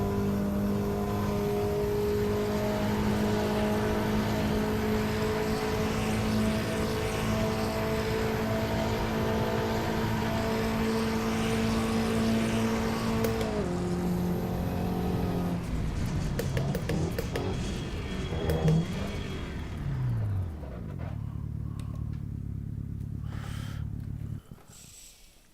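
Racing cars in the SRA sim racing video game at a Valencia night race drone and rev with strong steady engine tones that shift pitch, then drop away into brief lower revving and fade near the end, no talk.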